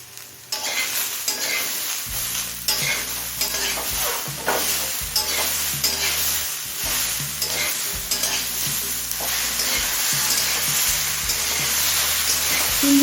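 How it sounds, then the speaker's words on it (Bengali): Prawns, vegetables and slit green chillies are turned in a pan with tongs. They make a loud, continuous sizzle, and rhythmic metallic scrapes and knocks of the tongs repeat every second or so throughout. "চিমটা দিয়ে মিনিট খানিক নাড়াচাড়া করে নিয়েছি"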